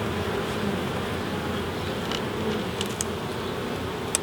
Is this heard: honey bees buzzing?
yes